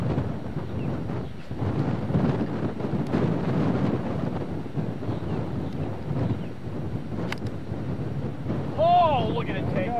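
Strong wind buffeting across an open golf course, a steady roaring rush that fills the whole stretch, loud and continuous, with a brief high-pitched sound near the end.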